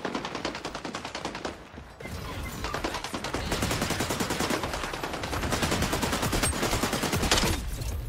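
Rapid automatic gunfire in the shooter game XDefiant rattles in long, dense bursts with a brief pause near two seconds, loud and close, no voices.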